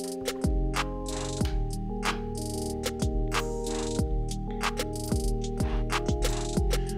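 A trap beat built in FL Studio plays with booming pitch-dropping 808 bass hits, crisp rapid hi-hats and snappy snares over a sustained melodic layer, loud and continuous without any voice.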